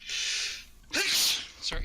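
A single close, sharp human sneeze with a quick inhaled gasp before it, followed by a brief breathy sound; a voice speaks briefly amid a tabletop role-playing game session.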